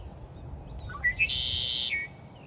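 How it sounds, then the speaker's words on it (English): A bird in a tree gives a few quick chirps, then a sustained high trilling note for about a second, clear above a low steady rumble of background noise, in The Villages, Florida. "What kind of bird is that?"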